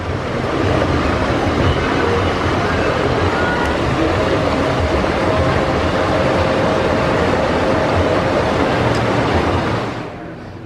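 A Grand Sierra Scenic Railroad train at Knott's Berry Farm rumbles along in a steady, loud roar, continuous for several seconds before fading out at the end.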